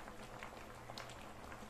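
A fertilizer mixture of waste and water boils in a pot, giving a soft, steady bubbling hiss close by, with small pops scattered through it and no voices.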